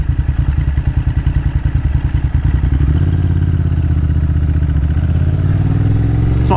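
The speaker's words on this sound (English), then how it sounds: "this bike seems to be running better and not stalling, which is superb" A motorcycle engine runs while riding, first with a loud, rapid pulsing thump, then settling into a smoother steady drone with rising pitch near the end, close and alone with no talk.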